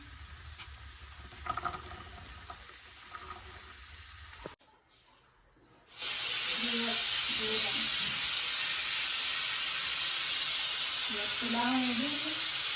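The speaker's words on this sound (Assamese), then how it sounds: "এইফালে বুটৰ ভাজি বনাই আছোঁ।" A few seconds of quiet murmuring and a brief near-silence give way to a loud, steady sizzle of chickpeas frying in a pan.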